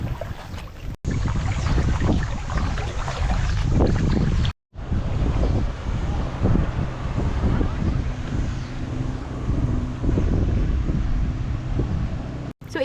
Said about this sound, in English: now that I'm on the water, it's really windy and it's really strong